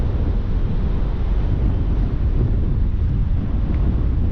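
Strong, steady wind roars across a microphone on Prestatyn beach in North Wales, a loud continuous low rush with faint surf beneath and no voices.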